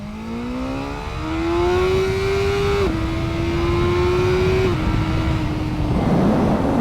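A 2022 BMW S 1000 R motorcycle's 999cc engine revs hard and climbs in pitch through several gear shifts, loud and close, with wind noise building toward the end.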